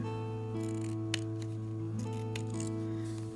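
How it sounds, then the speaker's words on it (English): Scissors snip fabric for a clothespin bag in a few crisp cuts, close up, over a steady tonal hum and without speech. "So I'm going to cut around."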